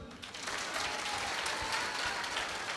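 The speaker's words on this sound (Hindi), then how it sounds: "ठोको ताली।" Audience at a religious gathering bursts into applause, a dense, sustained patter of many hands clapping, fairly loud and near, with a faint murmur of voices underneath.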